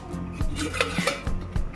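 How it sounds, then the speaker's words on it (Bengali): A metal lid lifted off a pot of boiling chicken soup with momos, giving several close clanks and knocks of metal on metal over a soft bubbling background. "চাপাটা খুলে নিলাম"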